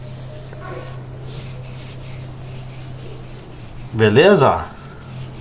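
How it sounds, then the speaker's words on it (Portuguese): A paintbrush dipped in thinner scrubs paint off a car tire in steady, continuous rubbing strokes, close up, with a short spoken phrase partway through. "com o pincel, ó, você só vai esfregando assim, ó. O thinner já vai tirando tudo"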